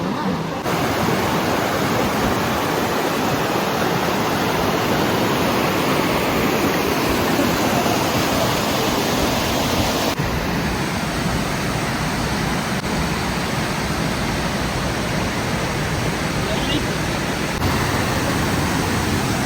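A forceful waterfall roars in a dense, unbroken rush of water, loud and close, holding a steady wall of noise with only faint voices buried beneath it.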